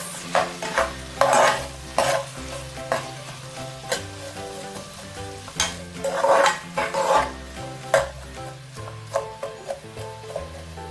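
Onions with chilies and salt get stirred in a frying pan, a soft sizzle beneath repeated scraping strokes of a utensil against the pan in uneven bursts, fairly quiet and close, with no voices.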